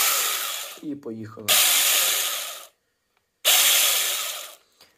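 A mini cordless battery-powered chainsaw for garden pruning revs in two loud bursts of broadband whirring, each over a second long and separated by a silent gap, with a brief spoken phrase just before the first burst.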